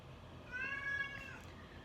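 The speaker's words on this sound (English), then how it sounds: "meticulous meowing and some positively predictable purring" A single short cat meow, fairly soft, over a quiet background hiss.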